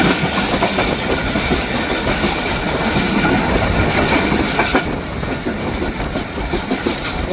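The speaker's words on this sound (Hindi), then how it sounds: "वो देखें दोस्तों पूरी ट्रेन यहाँ से दाएं तरफ बाएं तरफ घूम गई है" Khyber Mail passenger train rolling steadily along the rails, a continuous loud rumble with rhythmic wheel clatter and metallic rattling, heard from on board with no talking.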